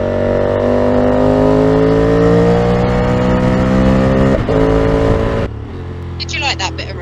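A KTM Super Duke motorcycle engine roars loudly and close, climbing steadily in pitch through the revs before cutting back abruptly near the end, while voices sound faintly underneath.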